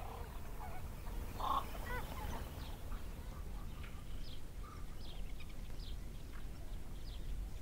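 Wetland birds, ducks among them, call faintly and sporadically across a large marshland park of pools on an old river delta, in short distant bursts over a steady low background rumble.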